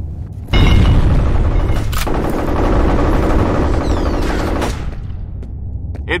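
A grenade bursts with a sharp boom in the first-person shooter FEAR, then sustained rapid gunfire rattles loudly and continuously for several seconds, broken by a couple of sharp cracks.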